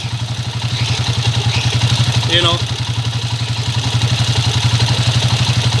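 A Kawasaki TMX155 motorcycle engine idles with a steady, rapid pulsing, a faint whirring clatter riding on top that comes with the clutch lever squeezed, while a person talks briefly.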